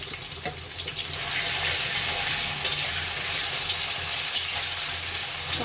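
Onions and tomatoes sizzle and fry in a pan in a home kitchen, a steady loud crackle with occasional sharp pops and clinks of stirring, no voices.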